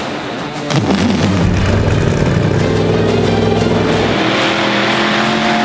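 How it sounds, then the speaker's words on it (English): Loud custom car engines at an auto show roar to life and rev hard, a deep throbbing rumble with rising and falling pitch, close and sustained. "The sound of these engines."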